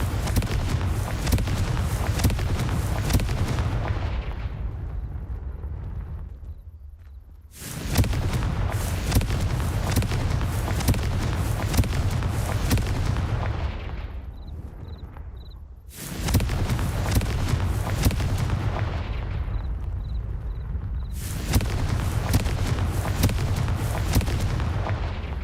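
Confringo fire-spell explosions in Hogwarts Legacy land as three heavy booms, each followed by a long roaring rumble that fades before the next blast hits.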